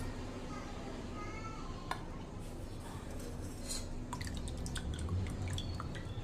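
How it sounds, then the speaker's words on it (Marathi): Soup strained through a sieve drips with scattered small drops and light clinks of utensils over a steady low background hum, close and fairly quiet. "सगळं पूर्णतः गाळून घेणार आहे"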